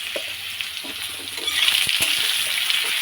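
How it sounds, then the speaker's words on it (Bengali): Spice masala with chili and turmeric powder frying in a pan for a home-cooked fish curry, a steady close sizzle with occasional stirring clinks and scrapes and no talk. "লঙ্কার গুঁড়ো, হলুদ গুঁড়ো দিয়ে দিল। দিয়ে এবার এটাকে কষানো হবে মশলাটা।"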